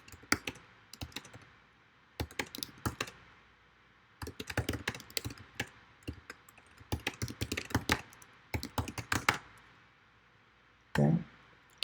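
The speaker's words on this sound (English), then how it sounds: "the reason why I'm typing all of this" Fingers type on a computer keyboard in quick irregular bursts of clicks separated by short pauses, close and crisp, with a single louder thump near the end.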